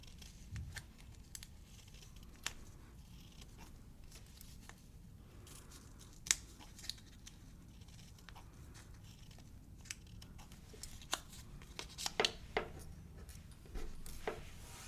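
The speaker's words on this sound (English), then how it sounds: "And then you cut 1 of the small colours." Scissors cut a small piece of coloured fabric with quiet, sporadic snips and soft rustles, heard close but faint against a low background.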